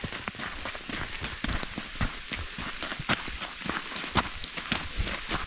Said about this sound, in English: Just chunks of ice. Sleet.